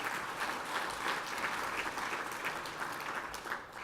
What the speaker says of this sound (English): So a round of applause for all of those folks who came here today.